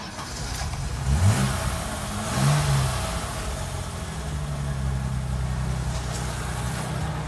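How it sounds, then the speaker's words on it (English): A 1974 BMW 2002 with a carbureted engine cranks briefly and catches, then revs once and settles into a steady idle, moderately close. "Let me start it up for you."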